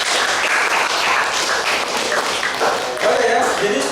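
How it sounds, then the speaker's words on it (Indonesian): An audience at a school coaching and academic supervision session applauds, a dense, continuous burst of clapping close by, mixed with some voices. "Tepuk tangan dulu buat kita semua."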